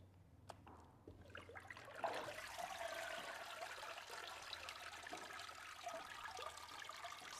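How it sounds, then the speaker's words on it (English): Water trickles and drips steadily and faintly from a papermaking mould holding pulp, close by, with a soft splashing rise after the first couple of seconds. "Just going to wait for some of the drips to come out."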